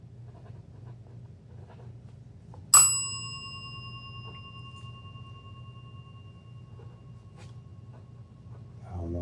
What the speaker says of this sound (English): If someone can answer that, ring this bell for me,